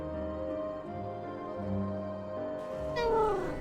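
A cat's drawn-out meow rises near the end over a sustained musical drone and ambient tones, fairly close and clear, with no talking.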